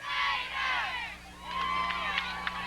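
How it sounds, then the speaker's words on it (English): Crowd cheering at a 1997 Nettleton vs Hoxie high school football homecoming game, a broad wash of distant voices that swells, dips and rises again, with a few sharper shouts near the end. "Were they just cheering for the Raiders?"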